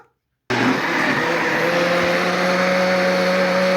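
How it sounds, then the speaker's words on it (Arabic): A blender mixes yogurt with a steady, loud motorized whir that runs continuously at constant speed after a brief silence. "وهضربه في الخلاط ضربة حلوة"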